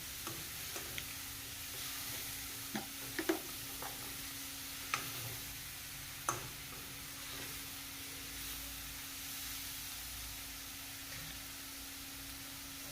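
Meat being stirred with a spatula in a pan with banana flower, a faint steady sizzle under a few scattered scrapes and taps of the spatula, quiet and close.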